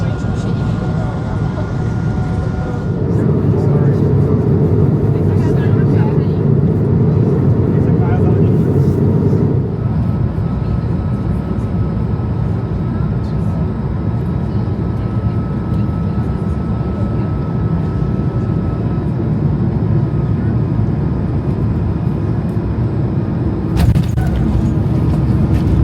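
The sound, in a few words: airplane cabin noise during flight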